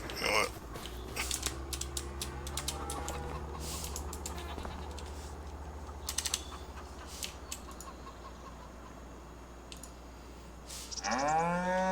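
Cattle mooing in the farming game Farming Simulator 25 on the Riverbend Springs map, heard among clucking chickens and steady farm ambience, with a louder moo near the end.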